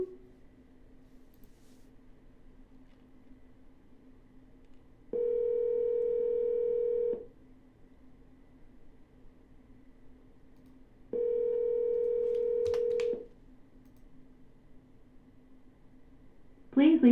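A telephone ringback tone during an outgoing call, two steady electronic tones of about two seconds each, separated by a few seconds of quiet line hum, with a short sound at the very end.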